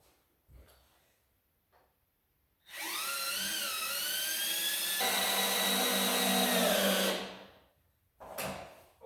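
A power drill drives screws into a 2x6 wooden headboard for a DIY twin bed, one loud sustained whirring burst of about four seconds that rises in pitch, with short faint handling knocks before and after.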